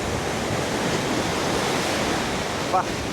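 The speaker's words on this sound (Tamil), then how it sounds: "தண்ணி அலை மாஸ்டர் இங்கே ஏறும்போது சும்மா மூஞ்சில் அடிச்சுது" Ocean waves crash onto a beach at Thiruvottiyur in Chennai, producing a dense, steady roar of surf up close, with a faint voice near the end.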